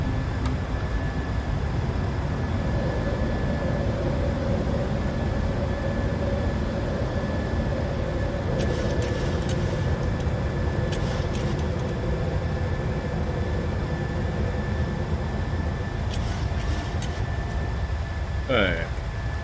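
Cockpit of a Boeing 737-700 airliner climbing after takeoff: a steady, loud broadband roar of engine and airflow fills the whole stretch, with a constant tone running through it and cockpit noise over the top.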